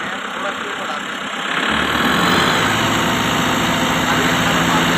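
A loud Kubota MU5502 tractor engine idles, then revs up sharply and holds a higher, steady roar close by.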